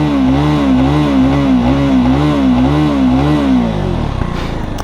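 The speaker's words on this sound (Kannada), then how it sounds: "ಎಕ್ಸಾಸ್ಟ್ ಸೌಂಡ್ ಕೇಳಿ" A KTM Duke 390 motorcycle with its new Gen 3 engine idles loud and close, its exhaust throbbing in a steady pulsing rhythm before the note drops away near the end.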